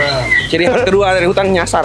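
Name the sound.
zebra dove (burung perkutut) cooing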